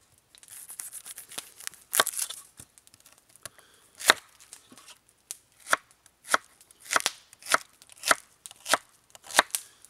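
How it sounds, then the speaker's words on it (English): A heavy-duty knife chops fresh vegetables on a board, with loose, irregular cuts at first that settle into a steady run of sharp, close, evenly spaced chops. "we're going to cut up a few vegetables real quick here"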